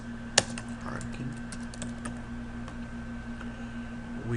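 A computer keyboard is typed on to enter a client name into salon point-of-sale software, with soft, sparse key clicks close by over a faint steady hum and no talk.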